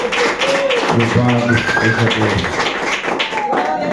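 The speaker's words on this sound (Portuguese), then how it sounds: "Bate as palmas e glorifica a Deus" A church congregation claps along at a Wednesday evening service, steady tapping hand claps under a voice, with music and chatter filling the room.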